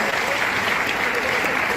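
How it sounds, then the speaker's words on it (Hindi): Children in an audience clap vigorously together, a brief burst of dense, even applause. "जोरदार तालियां मेरे बच्चों से।"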